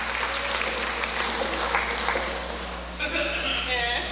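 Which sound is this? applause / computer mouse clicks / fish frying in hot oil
applause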